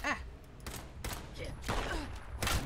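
Bursts of gunfire ring out in Fallout 76, several sharp separate shots spaced irregularly, each followed by a brief echoing tail, with some faint voice sounds between them.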